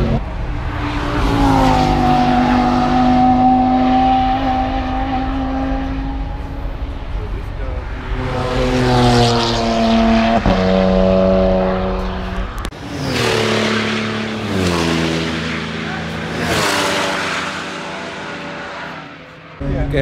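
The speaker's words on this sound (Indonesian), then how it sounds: "Benar-benar dekat banget sama mobil balapnya. Kerasa banget gimana kencengnya." Race cars scream past one after another at close range on a fast corner of a race track, each engine note loud and sweeping in a rising-then-falling wail.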